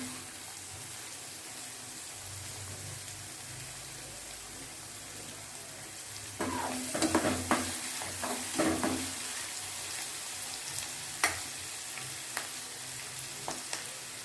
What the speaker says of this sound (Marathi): चांगला असा परतून घ्यायचा कांदा